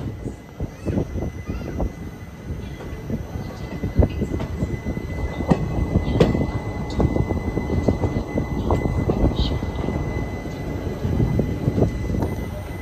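Prasanthi Nilayam Express pulling out of Yelahanka Junction, a steady rumble of wagons and wheels on rails with clattering bursts, heard close from on board, a faint voice briefly under it.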